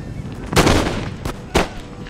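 Musket volleys in the Empire: Total War video game: three loud, sharp cracks with rolling echoes, the first the heaviest, spaced about a second apart over a battle din.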